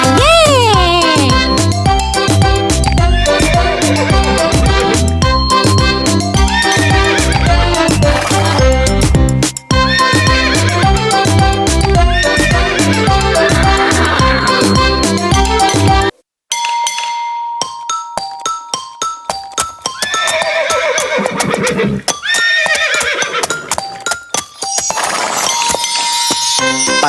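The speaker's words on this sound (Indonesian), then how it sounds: "Tik tak tik tik tak tik tak tik tik tak tik tak suara sepatu kuda." Horse neighing and hooves clip-clopping mixed into a loud busy children's song about a horse-drawn cart, with bright clinking tones; the music cuts out briefly midway, then resumes with whinny-like sweeps.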